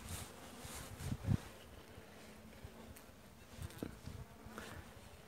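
Honeybees buzz quietly at an opened, weak hive during a frame inspection, a soft continuous drone with a few brief nearby bumps and rustles, with no one talking.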